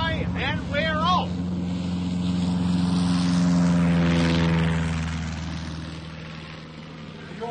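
A propeller airplane roars loudly down the runway on takeoff, its steady engine drone swelling and then easing, with a short burst of speech near the start.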